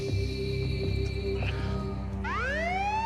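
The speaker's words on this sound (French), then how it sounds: "La sirène a retenti." A siren sounds at an escape room time-out, a steady tone that rises into a loud, sweeping wail toward the end, over a low humming background.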